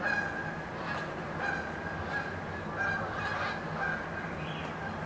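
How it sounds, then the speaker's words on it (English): Several geese honk repeatedly in the distance, their nasal calls rising over a steady outdoor background hum. "I hear geese"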